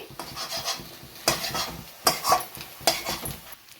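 Egg pieces frying in a pan, seasoned with a little salt and turmeric, with repeated metal scraping and clinking of a spatula against the pan over a soft background sizzle, several sharper scrapes standing out.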